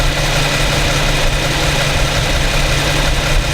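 A 2015 Infiniti Q70 with a 3.7 V6 engine idling in drive, giving a steady, even, loud low rumble and hum that runs unbroken throughout, with no voices.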